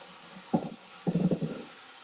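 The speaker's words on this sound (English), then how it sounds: "So I'm just getting some warm water in the bowl" Warm water splashes into a bowl in two short bursts, a brief pour followed by a longer, gurgling one, heard close and fairly quiet with no talking.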